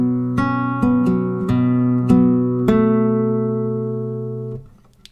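A fingerstyle acoustic guitar plays a short phrase from a song, with six plucked notes and chords struck one after another. Each rings out clearly and alone, then decays to silence.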